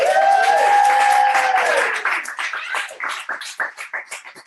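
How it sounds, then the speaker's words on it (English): Studio audience applause at a live show at Beachbody Headquarters, starting as a dense wash of clapping and breaking up into separate, uneven claps as it fades out over a few seconds. "Can I get a round of applause?"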